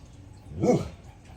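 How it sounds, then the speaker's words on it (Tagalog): A single short dog bark or yip sounds nearby, brief and moderately loud over quiet background. "Yan na naman yung aso namin. Ang ingay-ingay."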